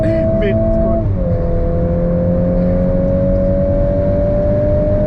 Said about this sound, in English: Accelerating mid-curve.